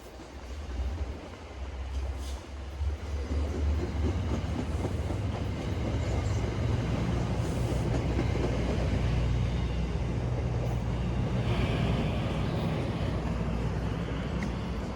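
An outbound MBTA commuter train rolls past nearby at restricted speed in Boston with a steady rumble and rhythmic clatter of wheels on rails, growing louder and staying heavy to the end.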